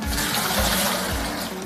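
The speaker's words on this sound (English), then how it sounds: "I'm gonna put the water in first so it doesn't clump up at the bottom so much" Water pours steadily into a bucket for mixing tile thinset during a ceramic tile install, a loud continuous rushing splash close by with no talking.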